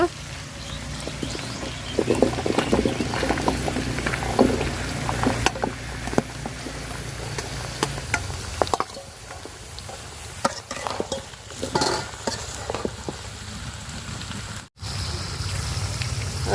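Bottle gourd dropped into a pan of frying onions, chillies and fish oil, followed by a continuous sizzle with repeated stirring and scraping strokes, close and fairly loud, with occasional speech in the background.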